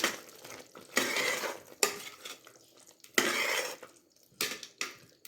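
A spoon scrapes and stirs brinjal gojju in a metal pan, with several loud clanking strokes separated by quieter scraping, close and clear with no talk.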